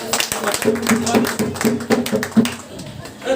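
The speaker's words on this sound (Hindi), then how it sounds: "ताली बजा सकते हैं हम लोग" A church congregation claps hands in a quick, steady rhythm of sharp, fairly near claps, with voices going on underneath.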